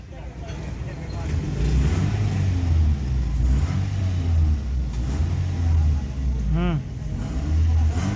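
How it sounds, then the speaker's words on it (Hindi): A Toyota Corolla with a misfire and a P2121 throttle/pedal position sensor fault revs as the accelerator is pressed: a steady, close low engine rumble that swells and eases, with a voice talking over it. "ये देख रहे हैं जैसे ही लड़के एक्सीलरेटर पैडल प्रेस कर रहे हैं ना, गाड़ी भी उसी तरह जो है एक्सीलरेट हो रही है"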